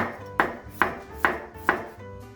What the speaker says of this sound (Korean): 오이 한 개 얇게 썰어주시고 썰 때 채칼이 있으면 저, 더 좋아요